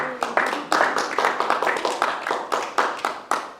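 An audience at a devotional evening concert claps along in a steady rhythm, crisp, evenly spaced group claps repeating close and clear with a faint voice underneath.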